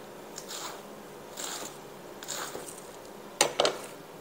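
Knife slicing cabbage into very thin shreds for coleslaw, a few soft crunchy cuts spaced about a second apart, then two sharper, louder chops close together near the end.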